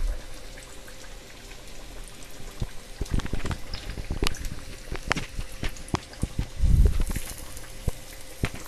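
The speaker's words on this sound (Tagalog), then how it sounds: "Piniprito natin siya, malapit na siyang matapos sa pagprito." Pork belly frying in hot oil for lechon kawali, a steady sizzle peppered with irregular sharp pops and spatters, building to a louder crackling burst near the end.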